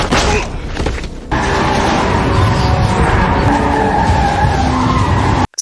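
A van rams a bank truck in a film scene, with a loud sustained tire skid and roaring vehicle noise running almost the whole time after a brief softer opening, ending abruptly.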